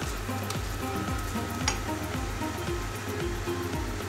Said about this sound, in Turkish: Yan tarafta da etimiz pişiyor.